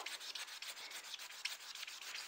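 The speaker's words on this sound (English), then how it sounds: "So what I'm gonna do right now, I'm gonna take my sanding block." A sanding block rubs across a beer tumbler in steady, close, continuous strokes, a dense hiss with a quick rhythmic pulse and no voices.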